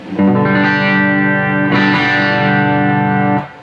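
A sustained electric guitar chord rings out in a clean amplified tone, struck twice and left to sustain, loud and close.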